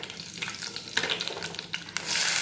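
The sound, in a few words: red chillies frying with cumin and mustard seeds in oil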